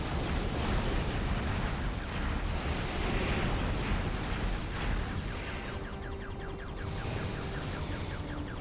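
A rocket fires in the video game Ratchet & Clank: Size Matters, a loud, dense, roaring blast that fills the whole clip and then thins into a rumbling tail with fainter rattling.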